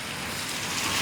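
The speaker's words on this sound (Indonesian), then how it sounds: "Kondisi saat ini hujan." Steady rain falls outdoors by a clogged culvert on the Kali Gabus river, a dense continuous hiss of drops heard up close with no voices.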